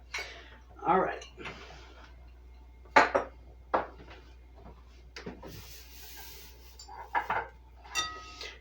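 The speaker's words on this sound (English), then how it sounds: "we're just going to mix this just a little bit" Garlic bread topping being mixed in a bowl, with scattered scrapes and clinks of a utensil against the bowl that come in short bursts, alongside a person talking.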